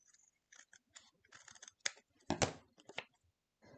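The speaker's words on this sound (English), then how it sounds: "So now I'm just gonna use my scissors and come in." Scissors snip through blue paper while crafting a scrapbook mosaic frame: a run of small, close, quiet crisp cuts and clicks in an irregular rhythm, with one or two louder snips near the end.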